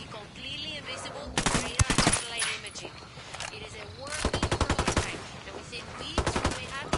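Automatic gunfire bursts in the video game Ghost Recon Wildlands, several short rapid volleys separated by gaps, with voices talking in between and under the shooting.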